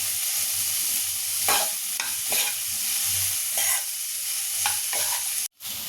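Boiled moth beans are tipped into a hot pan and stirred, giving a steady sizzle broken by repeated scraping spoon strokes, close and loud, ending in an abrupt brief silence.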